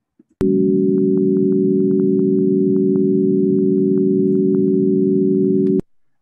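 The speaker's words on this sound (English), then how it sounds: "This is the sonification of the spectrum of hydrogen." Hydrogen's spectrum turned into sound: a steady chord of layered tones that holds unbroken at strong, even loudness for about five seconds, with faint clicks scattered over it, then stops abruptly.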